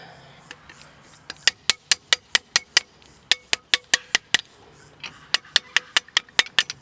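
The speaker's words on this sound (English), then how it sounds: "the key goes all the way in. It can't actually go in any further, and it's just not turning." A key rattles and clicks in a stuck caravan door lock, sharp metallic taps coming in rapid bursts of a dozen or so, a pause, then another run, close and loud.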